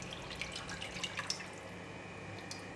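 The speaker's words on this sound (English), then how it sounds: "Pour all the curry into the pan." Curry gravy poured into a heated pan for a fish curry, a brief soft liquid splashing and dripping near the start that fades into quiet kitchen background.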